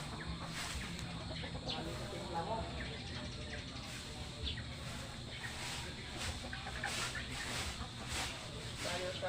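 Chickens in a coop cluck and chirp steadily amid a noisy outdoor background, with a few brief spoken words near the start.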